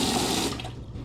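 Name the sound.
water running from a faucet through a hose into a trash can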